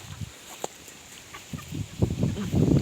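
Chickens and ducks cluck softly nearby in scattered bursts, a few sharper calls among them, growing busier toward the end over a faint background hum.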